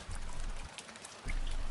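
Rain falls steadily in a broad hiss with scattered drops, soft and continuous with no voices.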